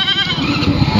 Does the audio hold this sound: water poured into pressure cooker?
no